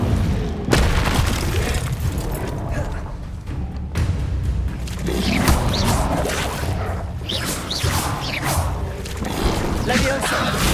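Fire spell Incendio cast repeatedly in the video game Hogwarts Legacy, heard as loud, dense booming blasts and crashing bursts over continuous game sound, with voices calling out over the action.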